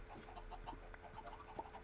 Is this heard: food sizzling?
no